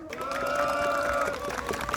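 Participants at an outdoor labor press conference outside a city hall clap and cheer together, a brief crowd roar with applause under a sustained tonal hum.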